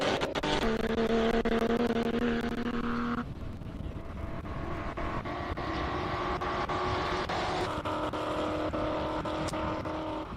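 A restored 1973 Porsche 911 with a 3.2-litre six-cylinder engine races in category H4 at the Simola classic car event, its loud engine note rising, dropping at a gear change, then climbing again.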